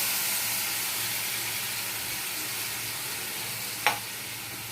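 A mustard and poppy seed paste fries in hot oil with a loud, steady, close sizzling hiss, broken once near the end by a single short utensil tap.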